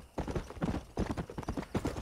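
A horse's hooves clip-clop in steady rapid rhythm across the ground in the Red Dead Redemption video game, close and loud throughout with no talking.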